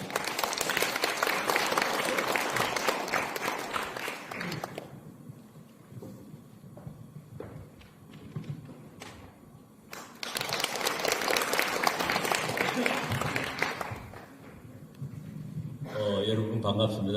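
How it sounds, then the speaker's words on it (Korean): At a residents' briefing in a hall, the audience gives a dense burst of applause to welcome a speaker. The clapping fades under talking, then swells again into a second loud round before the voices return. "박수로 환영 부탁드립니다"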